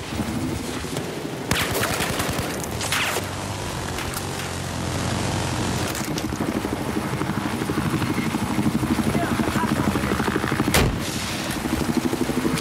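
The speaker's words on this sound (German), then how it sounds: "Ich habe einen feindlichen Heli gesichtet." An enemy helicopter flies in a military shooter video game, its rotor chop a loud, steady drone under sporadic bursts of gunfire and sharp bangs.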